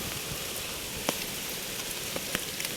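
Rain falls after Typhoon Aghon, a steady wide hiss of drops with a few sharper close drips standing out.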